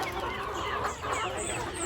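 A chicken clucks softly and repeatedly nearby, with low background noise and no talking.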